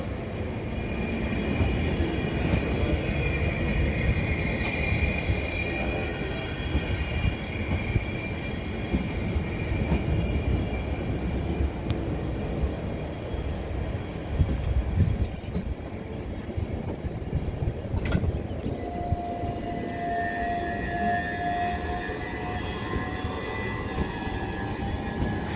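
A Southern Railway Class 377 electric train with a pantograph rumbles past the Angmering station level crossing, a loud sustained rolling roar with wheel noise, easing toward the end as a high squeal and a fainter hum remain.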